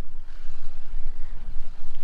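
A sailboat's motor drones in a steady low throb, close and fairly loud, with wind and water wash around it on a passage along the coast.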